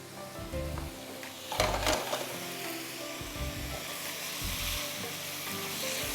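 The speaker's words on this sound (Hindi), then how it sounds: "सेम पैन में हम प्याज डालेंगे, लाल मिर्च डालेंगे" Onion and red chili fry in a pan with a steady crackling sizzle, punctuated by scraping stirring strokes and clinks, close and moderately quiet, no talking.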